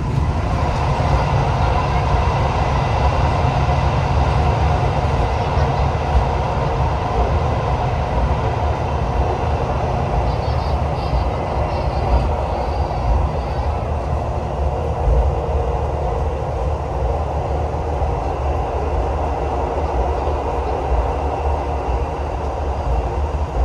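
The Progo New Generation economy train runs along the rails with a loud, steady low rumble and rolling wheel noise heard from on board, continuing without break.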